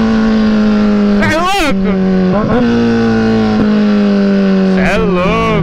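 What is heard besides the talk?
Kawasaki Z1000 motorcycle engine revving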